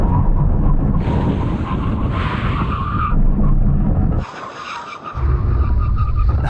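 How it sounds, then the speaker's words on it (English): Sports cars, a Porsche Cayman GTS, GR Supra and Alpine A110 S, make a full emergency stop from 100 mph, with loud, close roaring road and tyre noise, a brief drop partway through, then the rushing resumes. "Now we're going to have a brake test from 100 miles an hour when we reach the line, full emergency stop."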